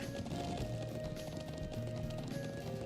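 Horse hooves clip-clop steadily in the Trails of Cold Steel video game, a continuous galloping patter over a droning game music bed with no talk.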